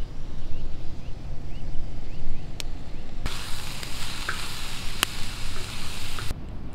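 Meat frying in a pan over raised heat with ground red paprika added, a steady dense sizzle running throughout with a few sharp utensil clicks against the pan; no one speaks.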